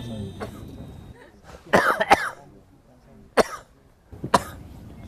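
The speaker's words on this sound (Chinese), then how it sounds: "你看他唱完就咳嗽了。" A person coughs right after singing on a variety show: sharp, loud coughs in short bursts, roughly four separate fits, with faint background murmur between them.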